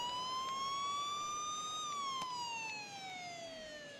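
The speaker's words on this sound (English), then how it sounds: "Sirens are playing." A wailing siren in a baseball video game rises and falls in a steady tone, clear and fairly prominent, heard on its own without speech.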